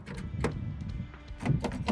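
A Vauxhall Corsa's central door locks actuate with a few quick mechanical clunks and whirs, close and fairly quiet, with two louder thumps near the end.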